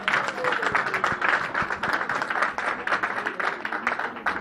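A church congregation at a Paris gospel tabernacle service applauds and cheers for Jesus, steady crowd clapping with scattered shouts, continuous and fairly close.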